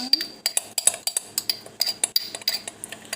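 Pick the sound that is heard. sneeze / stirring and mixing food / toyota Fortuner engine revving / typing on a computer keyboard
stirring and mixing food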